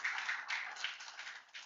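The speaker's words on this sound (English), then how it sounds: "Big round of applause for Avinash" A small conference audience in London applauds a speaker, brisk scattered hand clapping heard somewhat thin and distant, swelling and ebbing over a couple of seconds with no talk over it.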